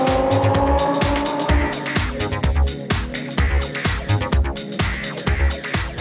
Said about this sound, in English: There's a beautiful exhaust note coming out of that naturally aspirated V10.